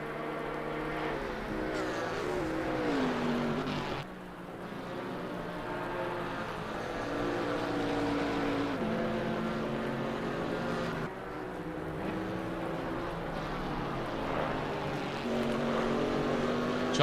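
GT4 race cars lapping Zandvoort in a racing game, a Porsche among them: a steady, droning engine note with shifting revs runs throughout, dipping briefly twice as gears change or cars pass.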